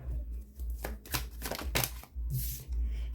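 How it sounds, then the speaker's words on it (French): Tarot cards are handled and laid out on a table in a run of close papery slaps and riffling shuffles, with brief pauses between the bursts. "je vais vous mettre là vos 2 cartes guides pour le mois"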